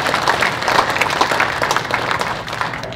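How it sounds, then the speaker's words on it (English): Conference audience applauding the speakers at a Chiefs of Ontario education event, a loud, continuous rush of many hands clapping at close range with no talk over it. "So let's give all our speakers a big round of applause."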